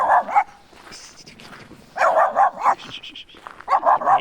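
A dog barks in short loud bursts, three clustered volleys separated by quieter gaps, with a person calling out between them outdoors.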